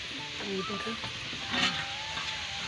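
Fish curry on a clay stove gives off a low, steady sizzle and bubbling with faint stirring, heard close up over a continuous background hiss.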